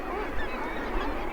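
A dense chorus of tens of thousands of seabirds calls without pause at an Arctic puffin colony. The layered honking and croaking is loud and close and forms an unbroken wall of sound.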